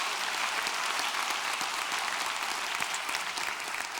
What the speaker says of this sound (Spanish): Dale el aplauso al Señor ahí donde estás.